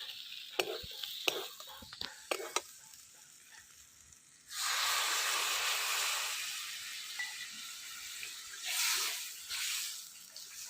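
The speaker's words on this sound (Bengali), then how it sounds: "এখন জল দিয়ে দেবো" Water poured into a hot wok of fried masala bursts into a loud hissing sizzle that fades slowly, after soft stirring clicks, with a second brief surge of sizzle near the end.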